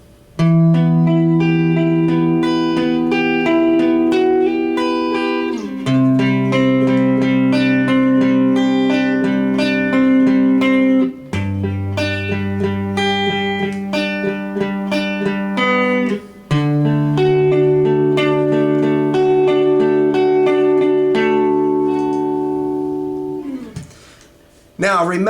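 An acoustic guitar slowly strums chord changes for a song in a down-down-up pattern, with clear rhythmic strokes ringing alone for about twenty-five seconds before a short pause.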